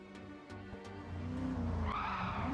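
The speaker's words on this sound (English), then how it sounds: "And we start with me doing some drifts." A car drifting on a track with a steady engine drone and rising tire squeal as it slides, a few sharp clicks early on, loud and close with no talking.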